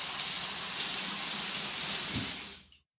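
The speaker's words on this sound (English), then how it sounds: "He immediately jumped in the shower to start his Eid routine." Shower water runs in a steady, loud, broadband hiss for nearly three seconds, then cuts off abruptly as the flow stops; no voices.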